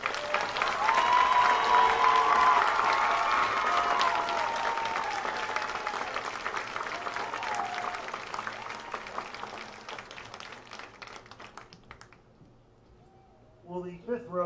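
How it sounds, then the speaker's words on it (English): A crowd at the Apollo-Ridge 2023 graduation applauds the graduates, loud, dense clapping that gradually thins and fades out, followed by a voice speaking over a microphone. "Let's have a round of applause for our fourth row graduate"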